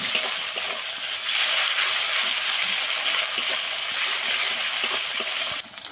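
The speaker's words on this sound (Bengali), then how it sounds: "সব কিছু ভালো করে কষিয়ে নেব একটু" Jackfruit and prawn curry with tomatoes and garlic paste sautéing in a pan, giving a steady loud sizzle with faint stirring scrapes throughout, easing off just at the end.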